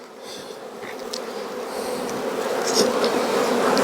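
Honey bees buzz densely and continuously at close range at an open hive during a fall nectar flow, a swelling hum of many wings that grows slightly louder throughout.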